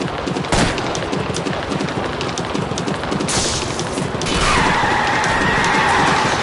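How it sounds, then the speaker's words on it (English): Rapid bursts of gunfire aimed at a fleeing car's tires during a video game chase near a train, loud and dense, with crashes and a rising vehicle roar near the end. "I'll try to shoot out his tires"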